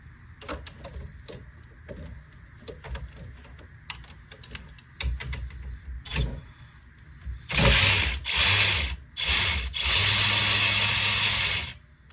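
A socket wrench ratchets on an AC condenser line bolt of a 2014-2019 GMC Sierra: quick clicking runs early on, then several loud, close bursts of fast ratcheting separated by short pauses.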